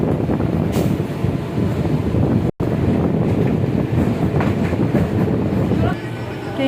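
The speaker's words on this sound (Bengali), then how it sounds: "ট্রেনটা মায়াপুর স্টেশন ছাড়লো" Passenger train pulling out of Mayapur station on a rainy day, a steady close rumble of wheels and rolling carriages with wind buffeting the microphone and faint rhythmic clatter, while someone talks over it.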